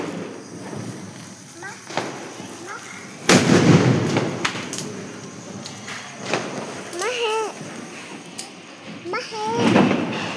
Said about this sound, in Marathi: फटाका फटाका.